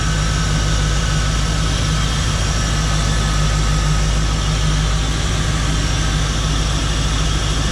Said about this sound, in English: Let you listen to the engine here for a minute.